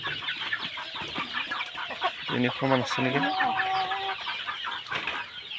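Local farm chickens cluck and call in a busy, overlapping flock, close and fairly loud, while someone talks over them.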